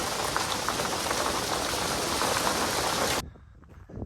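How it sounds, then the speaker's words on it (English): Heavy hail and rain pound down during monsoon season at a homestead in Lake City, Colorado, a dense, loud, unbroken hiss and patter that cuts off abruptly near the end. "raining. I mean, this is a hail rain."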